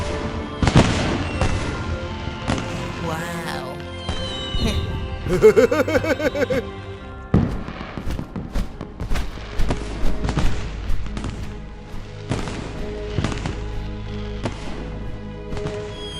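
Fireworks in an animated film burst and crackle repeatedly with deep booms, while people talk and exclaim over the noise.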